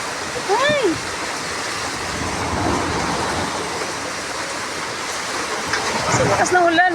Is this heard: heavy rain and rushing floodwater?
yes